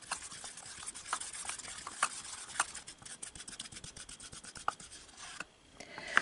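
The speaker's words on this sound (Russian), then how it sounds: "И также очень тщательно все перемешиваем." Face cleanser mixed with glycerin is stirred thoroughly in a small container, making soft repeated scraping and rubbing strokes in a quick, uneven rhythm, close and fairly quiet.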